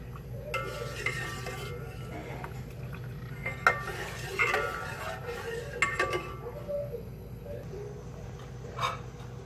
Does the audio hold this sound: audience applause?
no